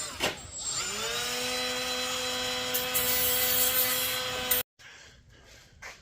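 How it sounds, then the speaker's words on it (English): An angle die grinder fitted with an 80 grit disc rounds off a metal part during a Tahoe hydroboost swap, giving a steady whining grind with rising tonal harmonics for about four seconds that cuts off abruptly. "I'm gonna round that off just with a angle die grinder with one of those like 80 grit discs on it"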